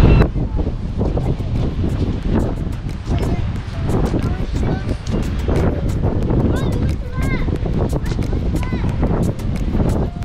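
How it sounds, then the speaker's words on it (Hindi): Strong wind at a beach in Scotland buffets the microphone with a loud, continuous roar and gusty rumble that fills the whole stretch, with faint surf-like noise beneath. "यहाँ पे बहुत हवा चल रही है"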